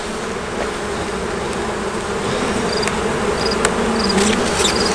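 Honeybees buzzing around an open brood box of a hive, a dense continuous drone close by with individual bees whining past now and then, no talking.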